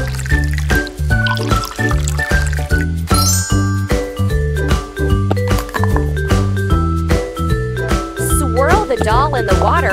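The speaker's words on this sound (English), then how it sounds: "Pour some water into the bottle." A cartoonish water-pouring effect fills a bottle in a mobile surprise-doll reveal game, its liquid gurgle and tinkling chimes blended into loud, steady upbeat game music with bouncy bass notes.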